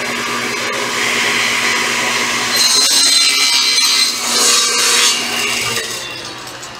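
A saw makes a final pass through a wooden cribbage board held against the fence, trimming it square to 13 1/4 by 13 1/4 inches at 3/4 inch thick. The steady grinding whine swells midway, then winds down.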